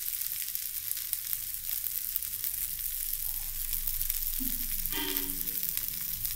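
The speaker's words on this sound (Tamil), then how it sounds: "லைட்டாக ஆயில் போடணும். கொஞ்ச நேரம் நல்லா வேகணும்." Masala dosa frying in a light coating of oil on a pan, giving a steady close sizzle throughout with a brief louder burst of crackling near the end; no talking.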